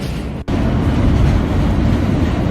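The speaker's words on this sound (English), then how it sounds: "This is a composite car train." A composite car subway train runs at speed toward about 45 mph, a loud, close, steady roar of wheels and rumbling carriages with one brief dip early on.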